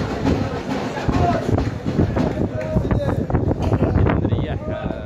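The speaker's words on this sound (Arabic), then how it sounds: "الرياح ماخليكش تلعب الكرة مع بعض" Strong wind roars steadily across an open football pitch during a Moroccan league match between Fath Nador and Ittihad Tamara, a constant loud buffeting broadband rush with faint crowd or commentary traces underneath.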